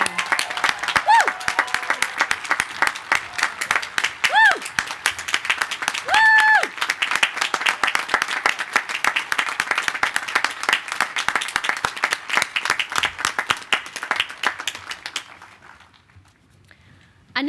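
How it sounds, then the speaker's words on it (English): A large crowd at a law school commencement ceremony applauds loudly and continuously, with a couple of whoops rising above it, before the clapping fades away abruptly near the end. "Please join me in a round of applause."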